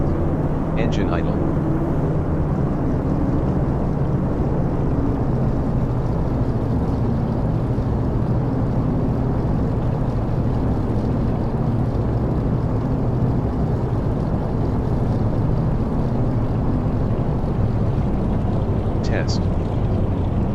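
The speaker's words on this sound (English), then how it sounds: "Test. Engine idle." Twin piston engines of a DC-3 idling in the X-Plane 11 flight simulator, a loud, continuous low rumbling drone throughout with little change.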